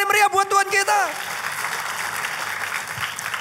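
A church congregation breaks into lively clapping after an emphatic line from the preacher, whose voice opens the clip; the applause then fills the rest as a steady, dense patter.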